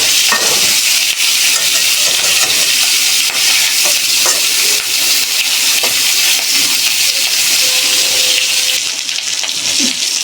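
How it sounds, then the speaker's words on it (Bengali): A fish head frying in a pan, a loud, dense, unbroken sizzle of hot oil heard up close, with faint scraping underneath. "মাছের মাথা ভাজা হয়ে গেছে"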